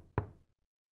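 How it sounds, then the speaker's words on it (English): A single sharp knock on a door in the video game Demon Slayer: The Hinokami Chronicles, close and clean, fading quickly into silence. "look at how polite we are knocking"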